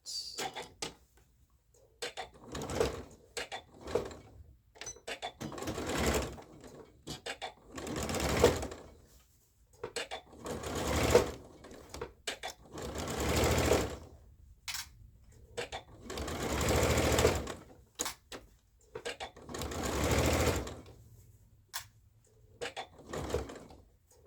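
A sewing machine stitches a dart on a dress in short bursts of close, rapid mechanical whirring, with pauses between runs as the stitching slows toward the point.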